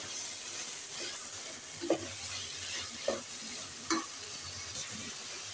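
Carrot halwa cooks on high heat in a pan, a steady low sizzle running throughout with three soft scraping stirs at intervals.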